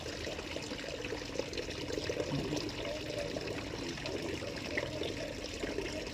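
Catfish being let go into water in a cement pond, heard as steady splashing and trickling water throughout, fairly close and continuous with no talking.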